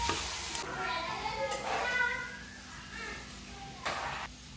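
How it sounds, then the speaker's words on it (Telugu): Potato frying in a pan while being stirred, a continuous soft sizzle with occasional scraping strokes, fairly faint and steady, with brief background sounds like a child or cat. "పొటాటో, బాగా కలపాలి. 2 నిమిషాల పాటు బాగా వేగనివ్వాలి."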